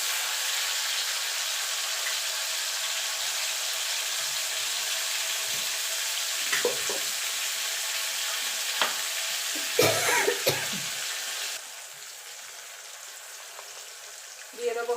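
Ginger and green chili paste frying for a masala paneer, a steady soft sizzle with a few stirring scrapes and clinks partway through, fairly quiet and close, no talk over it.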